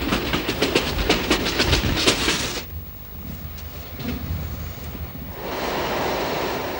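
Moving passenger train clattering on rails, with loud rhythmic clickety-clack bursts at first, then a quieter rumbling stretch before a steady roar of wheel noise builds again.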